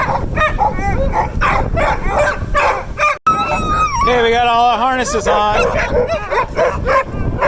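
A team of excited sled dogs in harnesses barks and yips continuously and loudly nearby, with high whining calls layered over the noise, while a person talks over them.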